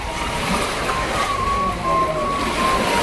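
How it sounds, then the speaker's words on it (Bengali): Gentle sea surf washes steadily against the shore beneath a jetty in a continuous, soft roar, with a faint tonal hum in the background. "সাগরের ঢেউগুলি আস্তে আস্তে পড়ছে"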